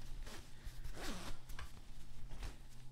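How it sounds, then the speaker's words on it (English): A zipper being pulled up on a puffer jacket, a close, scratchy zip with a quick sweep in the middle and some rustling of fabric, with no speech. "Let me see if I can zip it up and maybe I'll be able to show you."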